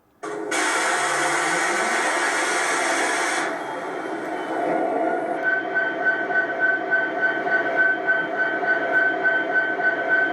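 An MTH G scale SD70ACe model diesel locomotive starts up with a loud burst of rumbling engine sound, then settles into a steady throbbing idle with a pulsing mechanical hum, close and alone.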